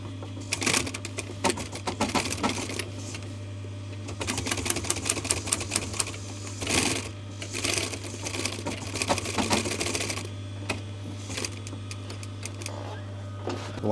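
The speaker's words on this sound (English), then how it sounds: "So you're sewing from this corner here to this corner here." Sewing machine stitching a diagonal seam on bias fabric strips for welt piping, running in a steady rapid rattle with short pauses and restarts, over a constant low mains hum.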